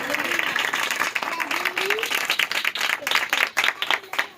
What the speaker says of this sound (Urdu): ذرا زوردار تالیاں خداوند کی جلال کے لیے